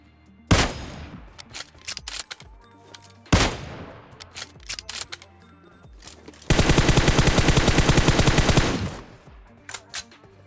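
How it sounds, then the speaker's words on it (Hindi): Kar98 bolt-action rifle fire in the mobile battle royale PUBG Mobile: a few single loud sharp shots spaced apart, then a dense burst of rapid automatic gunfire lasting about two seconds, with scattered distant shots and game effects around them. "देखना कैसे कार 98 का हेडशॉट बजाएंगे"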